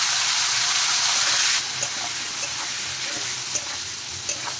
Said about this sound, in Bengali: এখন আমি কেটে রাখা পনিরের টুকরোগুলো ভেজে নেব।